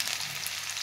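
Onion with cumin seeds and mustard seeds frying in a pan, giving a steady, close, even sizzle with a bright hiss throughout and no voices.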